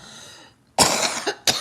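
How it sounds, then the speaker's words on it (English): A woman coughs during a short talk, a quiet breathy pause followed by one sharp, loud close cough, a smaller catch, then a second abrupt cough, with no speech. "Sorry, I'm going to cough."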